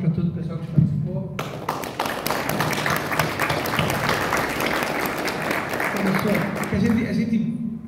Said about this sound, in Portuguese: eu até peço uma salva de palmas para todo o pessoal que participou